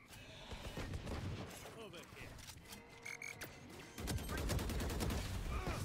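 Rapid gunfire from a competitive first-person shooter video game, dense crackling bursts running throughout and growing louder and more sustained near the end, with game effects layered underneath.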